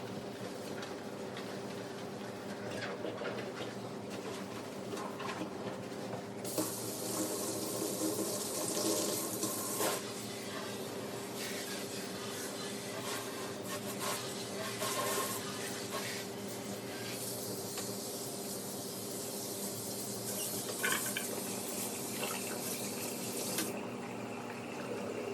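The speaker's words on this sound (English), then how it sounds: "now that I've cleaned the sink with the Dawn dish soap and rinsed it out" Kitchen sink rinsed under a running tap after scrubbing with Dawn dish soap, a continuous close splashing stream that swells brighter as the flow strikes the basin, with faint clatter and no talking.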